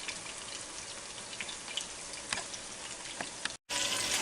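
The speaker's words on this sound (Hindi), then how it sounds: "जितने हमने बनाने थे कबाब वो फ्राई कर लिए हैं" Chapli kebabs made from minced meat sizzle steadily in a hot pan, a dense crackling fry with scattered pops throughout, ending with a brief cut before a louder burst of sizzle; no one talks.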